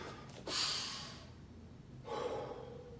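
Two strong breaths in a martial arts conditioning breathing exercise, a sharp forceful exhale followed by a second rushing breath after a short pause, close and alone.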